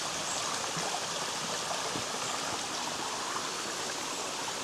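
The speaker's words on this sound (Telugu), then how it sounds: "అక్కడి నుంచి వస్తున్న వాటర్" Water from a small waterfall stream near Devkund, Maharashtra, rushes steadily and evenly, a continuous broadband wash that stays close and fairly loud throughout with no voices.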